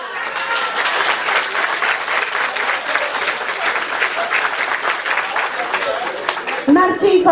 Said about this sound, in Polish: To brawa!